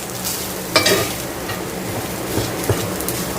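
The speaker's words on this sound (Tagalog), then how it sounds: "Now, ang ginagawa ko na, guys, is yung fried rice" Fried rice stir-frying in a pan in an outdoor dirty kitchen makes a steady sizzle, with a couple of sharp utensil scrapes and knocks against the pan and no talking.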